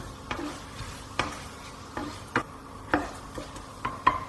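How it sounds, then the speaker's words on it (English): Cumin seeds, dried chilies and bay leaves in hot oil, with a faint low sizzle under a series of sharp spoon scrapes and taps against the pan, about seven in slow irregular rhythm. "Once your oil is heated up, our cumin seeds go in, followed by the dried chilies and bay leaves."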